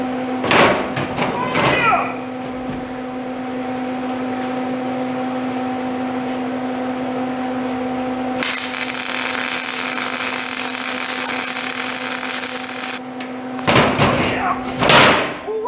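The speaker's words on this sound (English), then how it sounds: "I gotta flip it over and weld the inside of this seam." Welding the inside seam of a homemade trailer: a steady buzzing, hissing arc holds for several seconds at close range, with brief bumps and clatter of handling before and after it.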